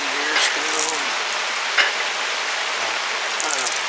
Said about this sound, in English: We got rain getting all over everything here still